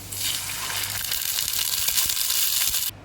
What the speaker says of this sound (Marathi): त्यामुळे आपण पाणी ओतणार आहे.